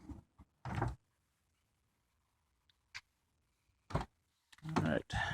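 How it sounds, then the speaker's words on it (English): The power sliding door on the driver's side of a 2000 Honda Odyssey opens and then closes. Short, separate mechanical bursts and clicks come with quiet gaps between them, heard close and fairly soft. "Driver's side, automatic door opens and closes."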